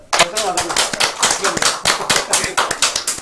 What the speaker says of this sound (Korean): 우리 박수 한번 치고 시작할까요?